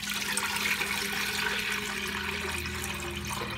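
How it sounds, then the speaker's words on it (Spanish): Clean water pours into a cooking pot in a home kitchen, a steady rushing stream that runs loud and unbroken, easing slightly toward the end. "que ahorita yo le voy a poner el agua, que ya la tengo acá, el agua ya limpia"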